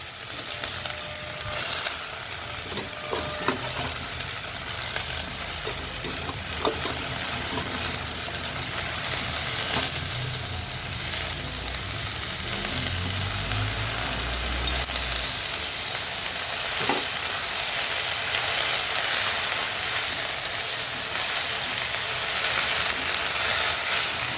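Greens and spice paste fry in a hot pan with a constant loud sizzle, broken by intermittent scraping and stirring clatter.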